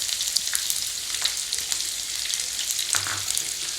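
Onions and curry leaves sautéing in hot oil for a South Indian egg masala gravy: a steady, dense sizzle with small crackles and spits. It runs close and continuous, with no voices.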